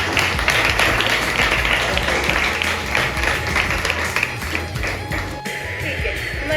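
An audience at an academy in Pune breaks into loud, sustained applause, dense clapping filling the room up close and tapering slightly toward the end.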